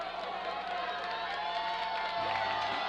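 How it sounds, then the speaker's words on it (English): A steady crowd roar from Archbishop Hammond fans standing along the sideline at a high school football game against St. Thomas, distant and continuous, under an announcer's commentary. "the Archbishop Hammond fans on their feet over on that sideline. You can see them trying to cheer their kids on."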